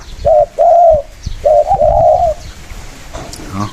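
A dove coos in two pairs of soft, low, rounded notes, close and clear, with a brief faint sound at the end.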